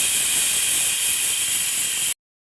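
A pressure cooker full of khichuri on the stove vents steam through its whistle, a loud continuous hiss that runs steadily for about two seconds and then stops abruptly.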